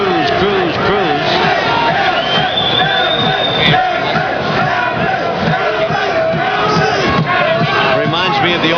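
A boxing arena crowd at the Forum chants a fighter's name in loud rhythmic unison, with shouts and cheers rising through a dense, continuous roar of many voices.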